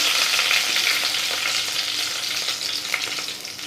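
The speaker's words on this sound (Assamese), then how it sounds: "এতিয়া প্ৰথমতে শুকান জলকীয়া দুটা দি দিছোঁ, তাৰপিছত তেজপাত দি দিছোঁ, অকণমান লৰাই দিছোঁ।" Two dried red chillies and a bay leaf fry in hot oil in a pan while being stirred, giving a close, steady sizzle with crackling and soft stirring scrapes and no talking.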